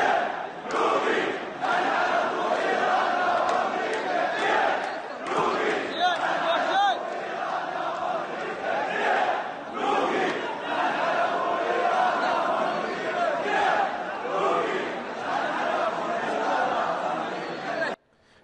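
A large crowd of Iraqi protesters chants in unison, voices rising and falling in a steady rhythmic cadence that stays loud and continuous for most of the stretch before cutting off abruptly at the end.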